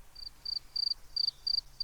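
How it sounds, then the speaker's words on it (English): A cricket chirps in the 2017 video game We Become What We Behold, giving a run of six short, evenly spaced, high-pitched chirps over a quiet background. "Ooh, and a cricket."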